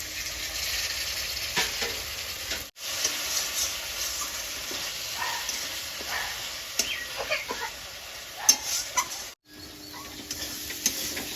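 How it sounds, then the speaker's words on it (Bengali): Spice paste of cumin, coriander, cardamom, cinnamon and clove frying in a pan with a little water, a soft sizzle with intermittent stirring scrapes and small pops, close, with two brief silent breaks. "একটু জল দেবো মশলাটা ভেজে নেবো ভালো করে"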